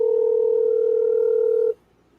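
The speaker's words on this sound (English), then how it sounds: "let's get Kathy on the phone" A steady telephone dial tone holds loud and unbroken for close to two seconds, then cuts off abruptly into near silence, with no one talking over it.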